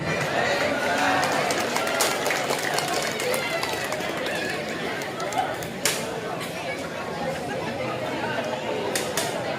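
Audience applause fills a community hall at a Batam family-association gathering, a dense, steady wash of many hands clapping for a local candidate, loud and continuous throughout, with crowd murmur underneath.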